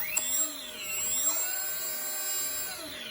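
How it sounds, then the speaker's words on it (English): An electric motor on an RC plane spools up with a whining tone that climbs and shifts in pitch, steady and close throughout, heard alone. "we can go ahead and spool up the right motor successfully"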